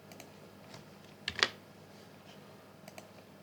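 Computer keyboard keys click twice in quick succession, a brief, faint tapping against an otherwise quiet room background.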